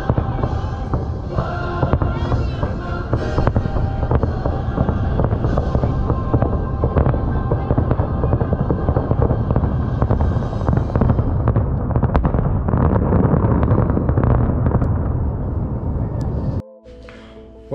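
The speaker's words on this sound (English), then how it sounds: "So that was the fireworks." Fireworks at Disney Springs at Christmas: a dense run of crackling bursts and booms that goes on without a pause for most of the clip, then stops abruptly.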